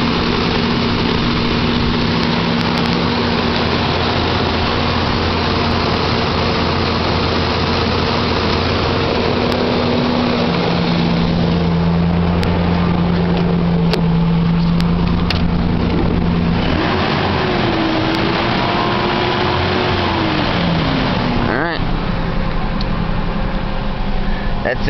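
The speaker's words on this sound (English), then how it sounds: "there's cold start of my Ranger" A Ranger pickup on a cold start, cranking slowly on its original battery, then running at a steady, loud idle for the whole stretch with a constant low engine drone.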